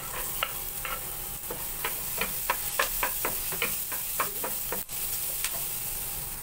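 Onion and garlic sizzle in butter in a pan, a soft, continuous frying hiss broken by a run of light, irregular clicks from stirring.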